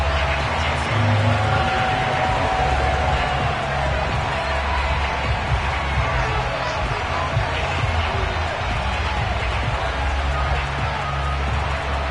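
A Baltimore stadium crowd at a Ravens–Cleveland Browns playoff game gives a steady, distant roar of approval as the teams emerge, with a broad continuous murmur and no distinct peaks.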